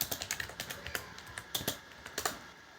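Someone types code on a computer keyboard: a quick, uneven run of close, crisp key clicks in small bursts with short pauses, fairly quiet and without talk.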